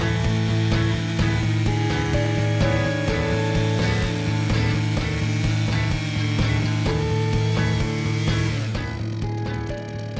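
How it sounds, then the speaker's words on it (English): A chainsaw mounted on a Logosol Timberjig rips steadily through a log, its engine droning loud and close with a constant pitch for most of the run before easing at the end. "Make sure that there is free space for the bar nose when you're sawing."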